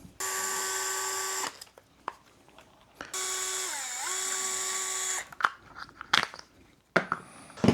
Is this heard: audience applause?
no